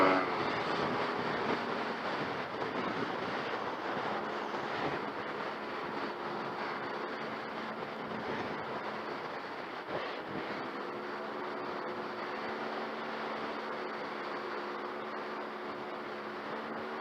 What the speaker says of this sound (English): Real windy. I didn't know it was going to be this windy.